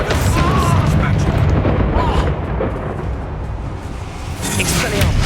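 A Reducto blasting spell goes off in Hogwarts Legacy, a loud booming explosion with a rumbling roar that fills the moment, followed by sustained crackling blast noise and a second burst near the end.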